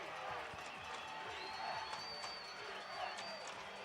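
A football stadium crowd at a Valdosta State Blazers versus North Alabama Lions college game roars steadily throughout, a dense, far-off wash of cheering and clapping with no clear breaks.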